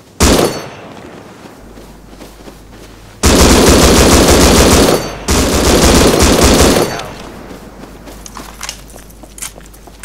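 Gunfire in the survival video game Rust: two sustained, loud bursts of rapid automatic fire, each lasting about two seconds, with scattered single shots and footstep-like rustles between them.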